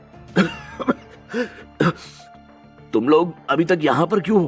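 A man coughs repeatedly while speaking in a Hindi horror audio story, harsh close coughs breaking up his strained words, with a narrator's voice also heard.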